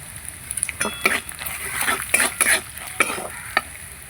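Spice paste with chili powder and salt sizzles in a pan as a spatula stirs it, producing irregular scraping strokes over a soft crackle, close and moderately quiet.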